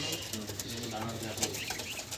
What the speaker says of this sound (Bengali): এই লফটে এই খোপের মধ্যে সব হচ্ছে মেদ্রাসি পায়রা